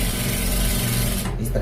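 A sewing machine stitches shirt collar fabric with a close, steady mechanical hum and rapid needle chatter that runs throughout, while a voice talks over it.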